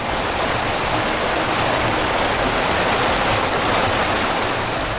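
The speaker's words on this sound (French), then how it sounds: "écouter sans s'ennuyer des heures entières les dernières eaux saisonnières du Mayo-Louti échouées sur des cascades rocailleuses" Steady, loud rush of the Mayo-Louti river's seasonal water tumbling over rocky cascades in the Kola gorges, a constant broadband roar with no voices.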